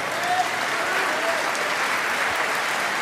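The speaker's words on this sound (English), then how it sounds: "Now just going through the motions for the crowd 63. to clap his every shot." A snooker crowd at the 2019 Masters semi-final claps after a Ronnie O'Sullivan shot, a steady burst of polite applause throughout with no voices over it.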